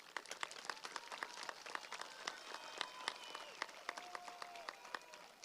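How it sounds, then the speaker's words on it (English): Graduation audience at a high school ceremony claps steadily, a dense rattle of many hands with sharp individual claps standing out, loud and continuous with no talk. "should give ourselves a round of applause"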